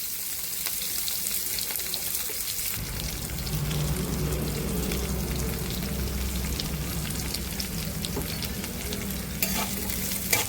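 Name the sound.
onions frying and being stirred in oil in a wok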